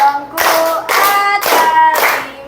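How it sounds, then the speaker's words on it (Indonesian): Children clap their hands in time to a sung children's song, the sharp claps landing in a steady beat beneath the singing voices. "Tepuk tangan ya everyone."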